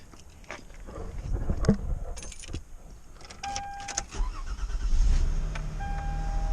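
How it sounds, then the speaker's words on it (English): A car with 206,000 miles on it is started with keys: keys jangle and clink near the start, then the engine catches around the fourth second and settles into a steady idle with a faint dashboard chime. "what we're going to do now is we're going to start the car"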